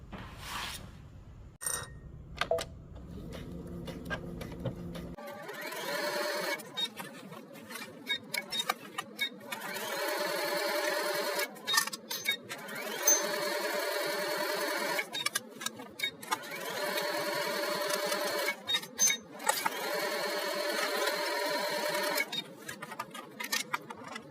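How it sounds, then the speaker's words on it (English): A home sewing machine stitches around a garment's bottom hem and up its back seam, running in repeated bursts of rapid mechanical whirring with brief pauses between runs, close and steady with no talk. "we're going to take this to the machine, and we're going to stitch all the way around the bottom hem and up the back seam."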